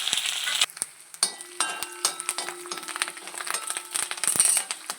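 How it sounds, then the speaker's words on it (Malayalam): Shallots, chillies and curry leaves fry in hot oil for a Kerala-style avial, a steady close sizzle broken by scattered clinks and scrapes of a spoon against the pan. "കൊച്ചുള്ളി ഒരു മൂത്ത് വരുമ്പോഴത്തേന് മുളകും കറിവേപ്പിലും ഇട്ട് കൊടുക്കണം"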